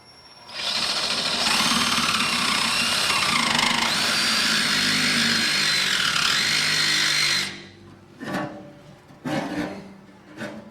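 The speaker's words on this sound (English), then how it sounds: "Get the old Diablo blade here going" A power saw fitted with a Diablo blade is cutting a truck frame for a C-notch. It gives a loud, sustained high-pitched metal-cutting whine for about seven seconds, then several shorter bursts with brief gaps between them.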